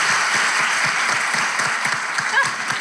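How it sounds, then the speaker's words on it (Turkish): An enthusiastic studio audience on a Turkish television show applauds loudly, producing dense, continuous clapping that stays close and full for the whole stretch, with no pause. "Coşkun alkış!"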